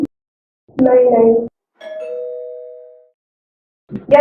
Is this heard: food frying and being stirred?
no